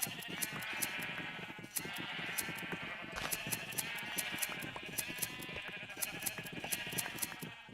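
Sheep bleating in the Minecraft video game, heard as many repeated, overlapping bleats forming a steady, crowded chorus that continues throughout without pause, with no talking.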